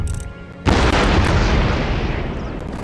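Cannon fire in the Empire: Total War video game: after a quieter lead-in, a deep, loud boom erupts and rolls on as a sustained, roaring rumble that slowly fades.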